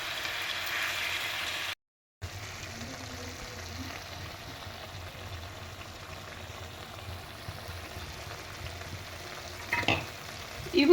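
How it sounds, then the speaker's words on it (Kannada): Chicken for green chilli chicken frying in a pan, a steady close crackling sizzle that runs unbroken except for a brief cut, with a light scrape of stirring near the end. "ಸೊ ಅದನ್ನು ಇವಾಗ ನೀಟಾಗಿ ಫ್ರೈ ಮಾಡ್ಕೊಳ್ಳಿ"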